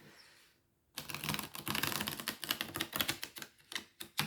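After a brief quiet moment, a close, rapid fluttering clatter of tarot cards being riffle shuffled runs for a few seconds in dense bursts.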